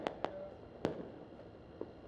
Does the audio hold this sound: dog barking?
no